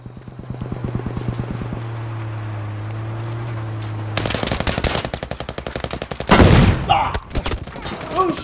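Tank gunfire in a video game: a low engine drone gives way to loud bursts of rapid automatic fire and heavy blasts, with a voice briefly heard over the action.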